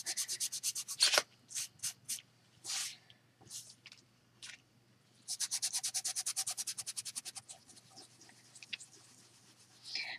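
A dry texture sponge rubs back and forth across a gel skin image transfer, giving rhythmic scratchy strokes in short bursts and then a longer run of quick, even scrubbing, close up with no voices.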